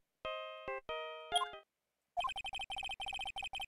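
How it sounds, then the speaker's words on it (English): A phone ringtone plays the Steel Samurai theme in the game Phoenix Wright: Ace Attorney, a clear electronic melody of sustained tones that gives way to a quick run of staccato beeping notes. "I know that song your phone plays when it rings."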